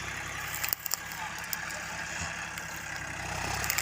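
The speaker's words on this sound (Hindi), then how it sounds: "अभी जिनके खेत में ये प्लाऊ चल रहा है" A John Deere 5050D tractor engine runs steadily while pulling a plough through a wheat field, a low continuous drone in the background with a few sharp knocks and rattles over it.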